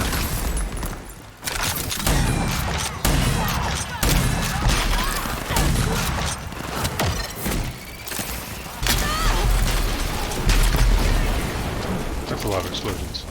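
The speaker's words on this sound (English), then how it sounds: "That's a lot of explosions." Dense bursts of gunfire and booming explosions in the shooter game Rage 2, loud and overlapping in rapid clusters, with someone talking over parts of the action.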